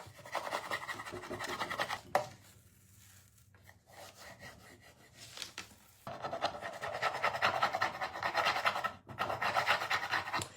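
Rub-on transfer burnished onto a surface with a tool, close dry scraping and rubbing strokes in two long bursts separated by a quieter pause, with no talk.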